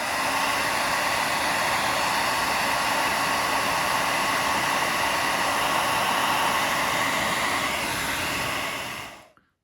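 A hair dryer blows steadily at close range for about nine seconds, drying paint on a black duck drake gunning decoy, then cuts off.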